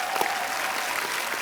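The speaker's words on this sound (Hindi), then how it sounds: "इसके लिए भी जोरदार तालियां" Studio audience applause on a Kapil Sharma comedy show set, a steady dense wash of clapping heard alone for a moment.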